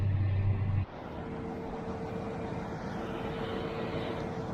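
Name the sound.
tractor engine working in farm field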